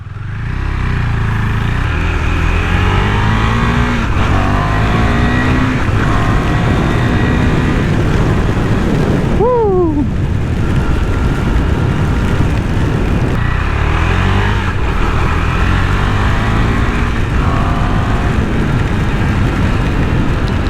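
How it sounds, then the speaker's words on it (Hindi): A KTM Duke 390 BS6 motorcycle exhaust note rises and falls through repeated revs, loud and close, with a sharp dip and swoop midway and the engine sound continuing without speech. "और अभी मैं जो आपको एक प्योर एग्जॉस्ट नोट देता हूँ"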